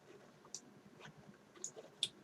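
Three faint, sharp computer mouse clicks, spaced irregularly, sound over a quiet room while a user clicks a trailhead on a web map.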